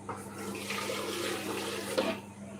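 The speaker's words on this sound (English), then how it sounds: "I'm going to pour it inside here and make some water." Water pours steadily into a cooking pot while a pot of local white soup is being prepared, a continuous close splashing and gurgling stream that lasts the whole moment and swells briefly near the end.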